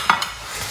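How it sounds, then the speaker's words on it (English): Butter melting into mixed garden vegetables in a hot pan, a soft sizzle with a few light stirring clicks near the start, short and close. "Melting butter into the vegetables."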